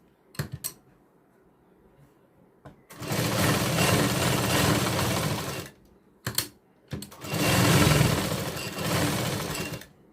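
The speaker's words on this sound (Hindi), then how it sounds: "इस तरह से आपको स्टिच कर लेना है सब तरफ से" An electric sewing machine stitches a katori blouse in two long, steady runs of buzzing whir, separated by short pauses and a few sharp clicks of handling the fabric.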